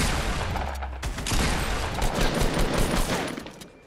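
Rapid automatic gunfire in the Fortnite battle royale game, dense overlapping bursts of loud shots with sharp cracks that rattle on for several seconds before tapering off.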